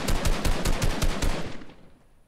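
Rapid automatic gunfire in Fortnite, a loud close burst of evenly spaced shots that runs about a second and a half before cutting off and fading into quiet.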